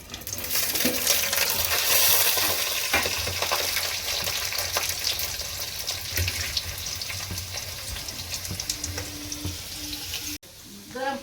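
Breakfast food frying in hot oil, fried twice until crisp, giving a loud, dense sizzle that starts strong and eases slightly, with a few faint clinks before cutting off abruptly near the end.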